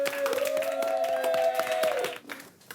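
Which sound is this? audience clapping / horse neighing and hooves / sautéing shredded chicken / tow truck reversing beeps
audience clapping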